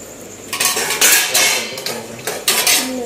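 Plates and cutlery are handled in a kitchen, with close, bright clattering knocks and scrapes in a few quick bursts over a faint background.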